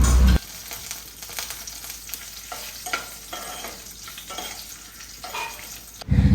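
Grated coconut and dried red chillies fry with fennel seeds in a pan, making a constant close sizzle under rhythmic stirring scrapes, with louder clatter at the start and end.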